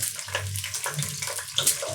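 Peas fry in hot ghee in a pan, giving a continuous close hiss and sizzle over a low hum, with occasional brief crackles and no voices.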